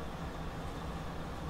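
A train from Train Simulator 2015 rumbling steadily as it approaches, a low continuous roar with no voices.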